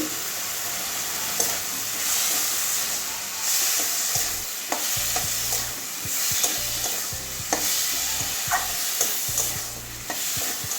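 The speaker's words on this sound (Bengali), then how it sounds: "দু তিন মিনিট ভালো করে কষিয়ে নেব" Spices with Kashmiri red chili powder sautéing in a pan for a bitter gourd and prawn dish, a continuous loud sizzle broken by repeated scraping stirs of a spatula.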